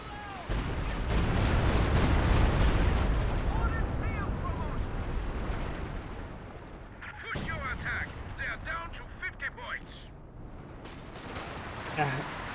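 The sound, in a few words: heavy mortar barrage in video game Company of Heroes 2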